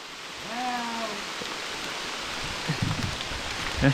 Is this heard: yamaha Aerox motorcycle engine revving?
no